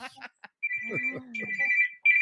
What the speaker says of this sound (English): Does it ever stop ringing?